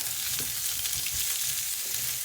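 Ginger and chillies sizzle and crackle in a hot pan, a steady frying hiss with occasional soft stirring scrapes.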